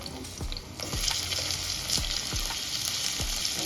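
Onion, tomato, garlic and ginger sauté in hot oil in a kadhai for shev bhaji, a steady close sizzle with regular scraping strokes of a spatula roughly every half second.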